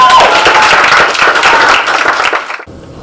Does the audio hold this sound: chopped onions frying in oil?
no